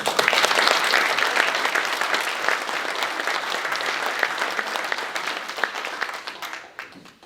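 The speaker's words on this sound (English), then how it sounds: "let's give a round of applause to Kathy Goodacre" Sustained audience applause fills a membership meeting hall, dense steady clapping from a large crowd, loud and continuous before thinning out at the end.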